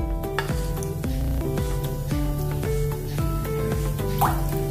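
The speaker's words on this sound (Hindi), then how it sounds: "इसमें हम पानी डाल देंगे" Water splashes and drips into a hot pan with a light sizzle and scattered clinks, poured in while making a rice-flour and poha breakfast dish, fairly close and quiet, with no talking.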